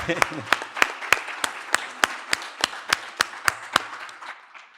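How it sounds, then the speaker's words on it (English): A small audience claps in a steady rhythm for a panel moderator at a finance and biodiversity event, about fifteen distinct, fairly close hand claps that thin out and fade near the end. "can we have a round of applause?"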